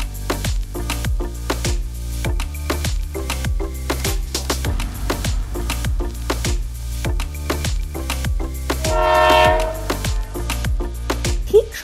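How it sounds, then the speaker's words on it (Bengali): The Kulik Express train runs from Howrah toward Tarapith with a steady rhythmic clatter of wheels over a low rumble. A brief higher squeal rises near the end. "তো সেই 100 টাকার টিকিট নিয়ে আমরা উঠে পড়েছি এখন ট্রেনে।"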